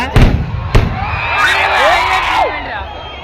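Two sharp firecracker bangs close by at a temple festival fair, followed by whistling rockets and a crowd cheering and shouting.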